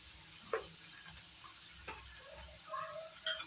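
Chicken and spices fry in a dry pan with no oil, giving a soft, steady sizzle broken by a few faint scrapes and clinks of stirring.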